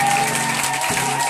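Congregation at a church deliverance service clapping in acclaim of Jesus, a dense, steady wash of applause filling the room for a brief moment.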